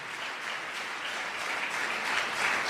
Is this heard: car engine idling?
no